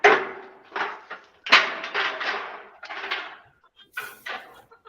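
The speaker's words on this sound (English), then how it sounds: "I hear some chickens." Several chickens cluck in short irregular bursts, fairly close and moderately loud, with a few brief knocks like chairs being moved in between.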